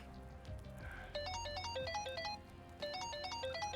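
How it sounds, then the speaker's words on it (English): An odd electronic phone ringtone in Yakuza Like a Dragon plays a quick, bouncy pattern of high beeping notes, in two bursts separated by a short pause, over a low background hum. "Oh, her ringtone is weird."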